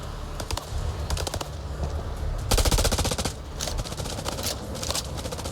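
Rapid automatic gunfire in the horror video game House of Ashes, dense bursts of loud cracking shots with a heavier volley midway, continuing steadily to the end.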